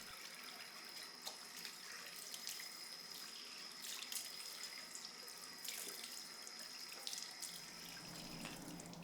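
Warm tap water runs steadily into a sink while exfoliator is rinsed off a face, a constant close splashing stream with faint drips and small movements, no voices.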